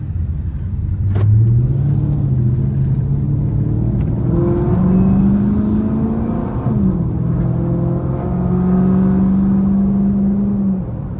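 Dodge SRT8 Charger cruising on a freeway, its engine droning steadily and loud with rising and falling pitch as it shifts through gears, sustained throughout with no talk.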